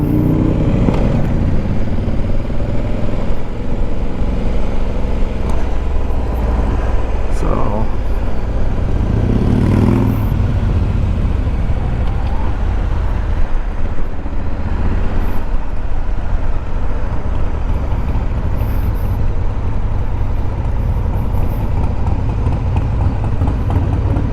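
A 2021 Honda Africa Twin DCT ES motorcycle ridden in sport mode, its engine a constant loud drone with heavy wind rush throughout, and a rider's voice heard faintly underneath.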